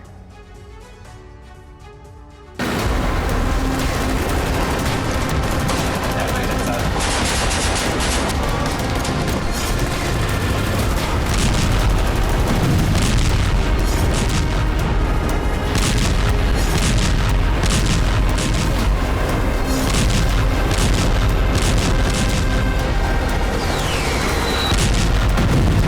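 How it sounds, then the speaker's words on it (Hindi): Dense, loud bombardment noise from war in Gaza's Khan Younis: continuous rumbling booms and bursts of gunfire after a quieter opening, sustained without voices. "वहीं आसमान से लेकर प्रचंड बारूदी प्रहार भी किया जा रहा है।"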